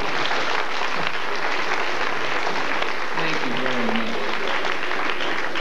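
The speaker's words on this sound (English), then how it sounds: "Give them both a round of applause." An audience applauding at a hypnosis show, giving a sustained round of clapping that fills the room, with a voice briefly heard over it partway through.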